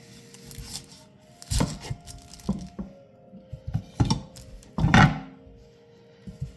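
A knife cuts an onion in half through the root, making several sharp, close chopping knocks on a board. One louder crunch stands out near the end, with quieter rustles between the cuts.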